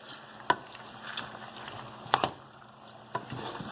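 A spoon stirring Spanish-style rice in a pot, a few scattered scrapes and clinks against a low simmering background, fairly quiet and sparse.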